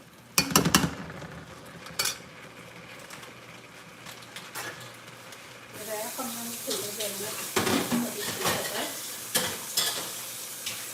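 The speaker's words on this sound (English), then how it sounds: "so we have our rice frying there" Rice frying in a pan while being stirred, with a steady crackling sizzle and occasional scraping and clinks of utensils against cookware; a person talks at times over the cooking sounds.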